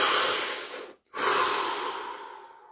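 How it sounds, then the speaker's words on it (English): One slow, deep breath close to the microphone: a long, airy inhale, a brief silent pause, then a long, gradual exhale. "Take a deep breath."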